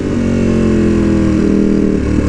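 A Ducati Panigale V2 motorcycle fitted with a Vandemon full exhaust and dB killers runs with a loud, steady, close engine drone and a brief rise in pitch, no talk.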